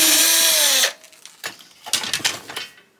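Power drill driving a large bit down through wood, loud and close with a whining tone that stops abruptly, followed by a few scattered knocks and handling clatter.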